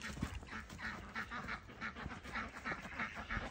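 Ducks on a small farm in Canada quack in a steady, repeated chorus at bedtime, a fairly faint flock heard together without talk over them.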